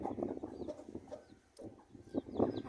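Chickens clucking in a farmyard on a cold day, several soft calls in short bursts, close by and fairly quiet, with a brief lull midway.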